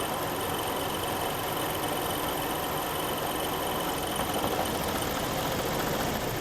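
A Jeep engine idles roughly with a faulty exhaust phaser, a dense gritty mechanical rattle and hum that is steady and fairly faint, with no one talking.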